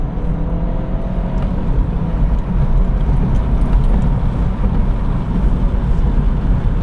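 A 2017 VW Scirocco GT Black Edition drives along back roads, its engine and road noise forming a loud, steady droning rumble from inside the car, with no talking.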